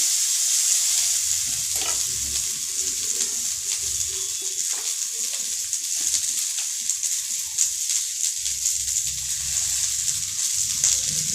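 Turmeric powder is stirred through oil in a frying pan over lowered gas heat, producing a loud, continuous sizzle with intermittent spatula scrapes and no talking.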